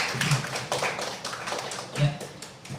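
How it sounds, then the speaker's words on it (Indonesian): A small group of teachers claps in a few scattered, uneven bursts, with voices talking over the sharp hand claps. "Tepuk tangan"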